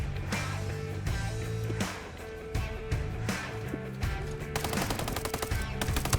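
Rapid automatic gunfire and single shots crack through a Ghost Recon Breakpoint firefight, loud and close, with dense bursts running nearly nonstop over a low rumbling game soundtrack.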